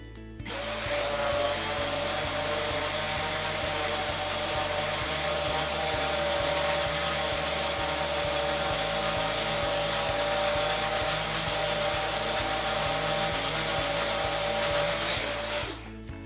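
An electric sander works across oak boards clamped together, a steady loud motor whir with gritty friction running continuously for about fifteen seconds before cutting off.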